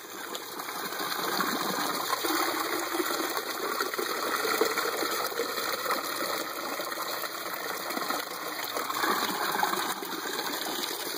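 Water gushes steadily from the outlet of a large pump in an aquaponic setup, a continuous close rushing and splashing that holds at an even level throughout, with no talking.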